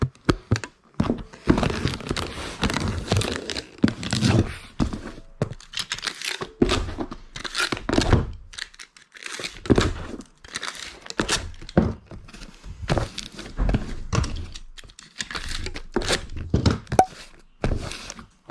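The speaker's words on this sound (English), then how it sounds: "we'll just go ahead and get this all taped up" Packing tape is pulled and ripped off a roll and pressed onto a 12x10x6 cardboard shipping box, with repeated loud tearing screeches, crinkles and thunks close by in irregular bursts, almost no talk.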